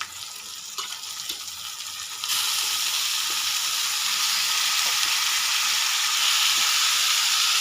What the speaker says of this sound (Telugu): వేగిన తర్వాత ఇప్పుడు మనం చికెన్ వేసేసుకుందాము